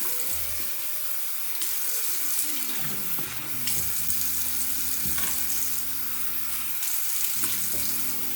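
Tap water runs steadily into a basin while a Pine-Glo and vinegar cleaning solution is rinsed away, a continuous close splashing hiss that shifts in pitch as the flow hits the surface.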